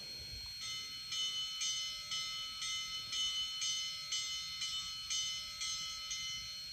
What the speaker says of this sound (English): So number 1 is the bell.